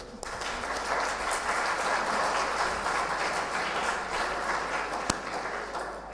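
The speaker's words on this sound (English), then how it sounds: "a big round of applause to the winners" Sustained applause from an audience at a language festival event at IIIT Manipur, steady dense clapping lasting several seconds with no talk over it.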